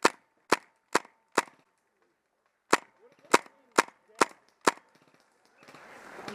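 During an airsoft attack and defend game, sharp nearby airsoft gun shots crack out in quick irregular strings, about ten loud pops with short pauses between, followed by rustling movement.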